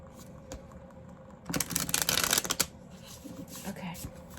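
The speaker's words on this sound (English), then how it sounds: "that's how you know you've been shuffling a lot of cards" A deck of playing cards being shuffled, a dense crisp riffling burst lasting about a second in the middle, with faint handling clicks before and after against quiet room tone.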